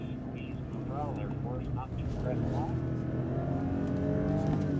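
A 2025 BMW M5 accelerates hard with traction control and stability off in rear-drive mode, its engine note climbing and shifting steadily while someone talks over it from inside the car.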